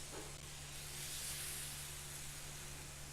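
Taco-seasoned steaks searing in a cast iron skillet with a steady, loud hiss of sizzling meat and no talk.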